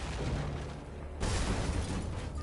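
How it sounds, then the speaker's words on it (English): An explosion in the video game Age of Wonders 4, a loud rumbling boom that swells about halfway through and keeps roaring heavily to the end. "It's a violent explosion."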